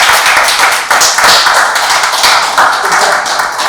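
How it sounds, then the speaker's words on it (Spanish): An audience applauds two artists, Pablo Frey and Mario Croni, at a book presentation, a loud dense burst of clapping that stays steady across the whole moment. "ante todo el aplauso para los 2 principales artistas que están acá presentes, Pablo Frey y Mario Croni"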